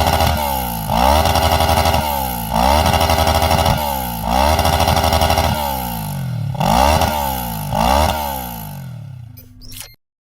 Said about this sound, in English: let's hear the sound of the Ninja 650 fitted with an acropovic exhaust